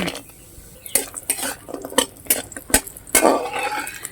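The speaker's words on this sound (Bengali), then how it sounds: "এখন এই বড়িটা একটু ভেজে নিচ্ছি" Lentil dumplings (bori) being fried in a pan, heard as a string of sharp clinks and scrapes of a utensil against metal over a soft sizzle, close and moderately loud.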